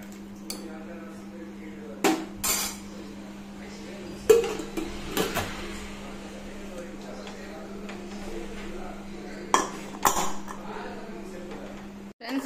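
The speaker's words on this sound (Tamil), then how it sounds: "இப்போ வந்து நம்ம குக்கரை போட்டு மூடி வச்சுக்கலாம்." A pressure cooker lid is shut and metal pots clink in a kitchen while tomato rice is cooked. Half a dozen sharp, close metallic clanks come in scattered pairs over a low steady hum, with faint voice in the background.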